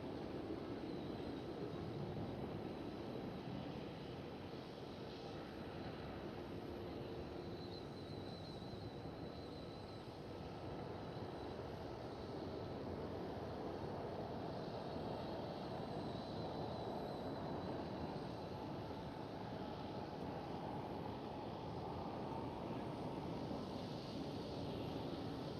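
A KLM Boeing 737 departs from runway 09 at Amsterdam Schiphol, its jet engines a distant, fairly faint, continuous broadband roar that holds steady throughout with some wind noise.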